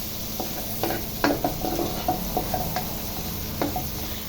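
Food being stirred in a frying pan gives a soft hiss of sizzling, broken by light scrapes and taps of a utensil at uneven intervals, close and fairly quiet.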